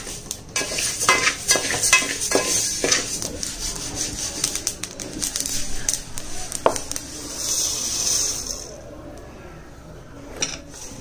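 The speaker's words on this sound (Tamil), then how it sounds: "இதையும் நம்ம வறுத்துக்கிறோம்." Grains of pearl millet being dry roasted and stirred in a pan, with repeated scraping and clinking of a spoon against the metal, steady and close, while a voice talks intermittently.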